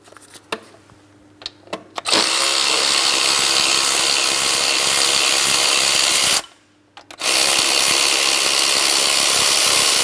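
Power tool whining steadily close up while backing out an 18mm mounting bolt on a 2003-2007 Cadillac CTS 3.6L V6 engine, with a short pause before the tool runs loud again.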